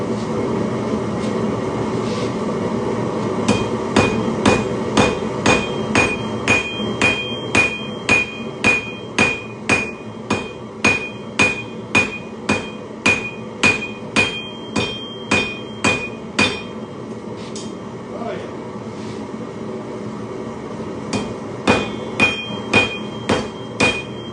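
Steady rhythmic hammer blows ring out on hot metal at a forge, loud and close, with a short pause before the strikes resume.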